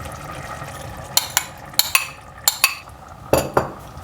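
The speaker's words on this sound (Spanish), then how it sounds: "Y removemos." Chili con carne with tomato, corn and beans is stirred in a pot, a utensil scraping and clinking against the metal in a loose rhythm over a low simmering background.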